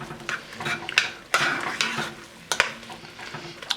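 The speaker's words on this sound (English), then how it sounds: "And at this point I'm going to add the garlic as well, and we'll stir that in." Garlic stirred into mushrooms frying in a pan for cream of mushroom soup: a close, steady sizzle broken by repeated utensil scrapes and clinks against the pan.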